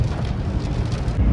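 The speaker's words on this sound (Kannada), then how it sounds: "ಫೈನಲಿ ಮಳೆ ಬಂತು ನೋಡಿ." Steady rain falls on a roadside near a parked car, a continuous dense hiss with low rumbling wind noise, no voices.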